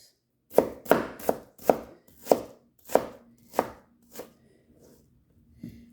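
Knife chopping cabbage and onions on a board: about nine distinct, fairly loud thuds in an uneven rhythm, fading toward the end with a faint hum beneath.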